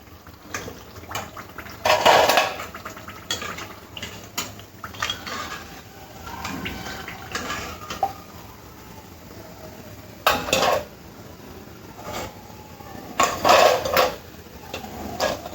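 Fried rice-flour snacks are tipped into a metal strainer to drain oil, producing several loud metallic clanks and scrapes spaced irregularly over a faint, quiet kitchen background.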